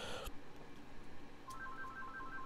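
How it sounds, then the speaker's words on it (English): A mobile phone starts ringing, a faint repeating electronic beeping tone pattern entering midway and continuing in regular pulses over low room noise. "my phone's going off"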